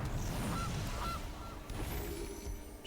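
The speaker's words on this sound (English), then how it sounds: "And we're going to cast Gilded Goose." Gilded Goose cast in MTG Arena, a digital card game, gives a short goose honk over a steady bed of game music and ambience.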